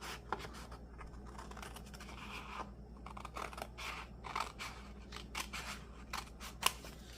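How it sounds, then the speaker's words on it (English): Scissors snip along a line through paper in a Happy Planner, a run of close, crisp cuts and rustles with small pauses between strokes and no talk. "Then I'm just going to cut right up this line."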